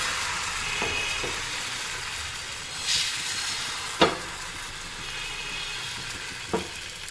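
Pitha batter sizzles on a hot tawa brushed with ghee over a lowered gas flame, a steady close frying hiss broken by a few soft clinks.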